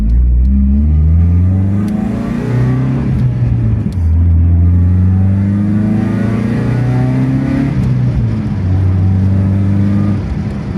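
An Opel Calibra 2.0 16V sports car engine revs hard and steadily, its pitch climbing and falling through gear changes, loud and close with no voices.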